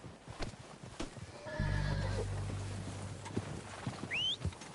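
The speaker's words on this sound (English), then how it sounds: "They're coming down with the horses" Horses in a Red Dead Redemption 2 game scene let out a loud, drawn-out whinny up close, with scattered hoof clops and thuds around it and a faint high squeal near the end.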